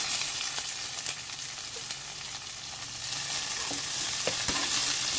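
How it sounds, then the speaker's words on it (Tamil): Onions and green chilli frying in a pan until golden, a steady close sizzle with occasional scraping clinks of a spatula stirring, and no one talking. "இப்போ நல்லா பொன்னிறம் ஆகிற வரைக்கும் நல்லா வதக்கணும்"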